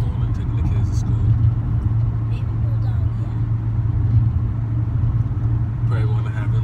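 A car driving along a road in the early morning on a school run, with a steady low engine and road rumble throughout, close and continuous, with no talk.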